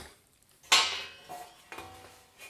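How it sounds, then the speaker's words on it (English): Metal lid being set back onto the casing of a Yamaha SPX90 effects unit under repair, one sharp metallic clank followed by a few lighter knocks and scrapes as it settles, close and without talk. "Let's get the lid on."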